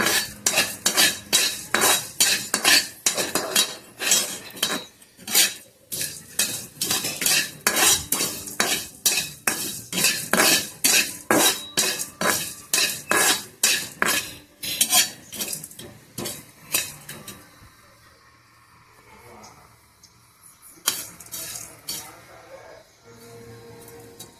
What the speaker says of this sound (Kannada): ಕಾಳು ಮೆಣಸು ಎಲ್ಲ ಹಾಕ್ಕೊತೀನಿ. ಹಾಕ್ಕೊಂಡು ಹುರಿತೀನಿ.